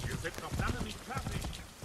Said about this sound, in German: ich gerade auf dem Pferd unterwegs bin